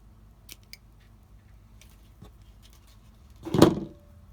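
Scissors snip fishing line tag ends after a braid-to-leader knot, a single sharp close cut near the end following a few faint handling taps in near silence.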